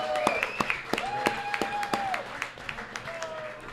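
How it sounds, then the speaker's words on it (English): A crowd applauds the UC football team, with clapping that rises and falls in bursts and high whistle-like tones sounding over the noise. "let's give a round of applause to the UC football team and all those athletes"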